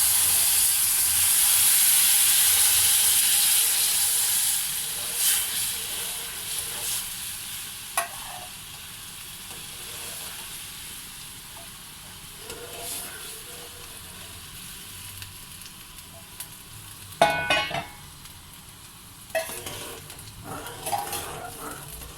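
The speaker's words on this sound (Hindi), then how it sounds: "थोड़ी थोड़ी चाशनी शामिल करेंगे और साथ साथ हिलाते जाएंगे" Halwa hisses sharply as sugar syrup hits the hot pan, the loud steamy sizzle soon easing into quieter frying, broken by occasional clinks and scrapes of a spoon stirring close by.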